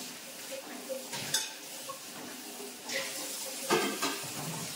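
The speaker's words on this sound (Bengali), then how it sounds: "থালাগুলো ধুয়ে নিচ্ছি" Running tap water with dishes and plates clinking and scraping as they are rinsed at a home kitchen sink, a steady wash of water broken by a few louder knocks.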